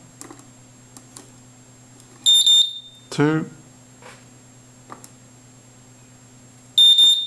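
Two bursts of a loud, piercing electronic security alarm tone, a short one early and another at the end, with someone talking and faint clicks between them.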